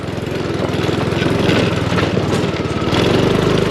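A motorcycle engine labors up a steep, rocky river trail, its loud, close, steady drone rising and falling slightly in effort throughout.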